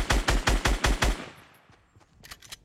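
Rapid automatic gunfire in a shooter video game, a burst of about six loud, evenly spaced shots followed by a decaying tail and a few fainter distant pops.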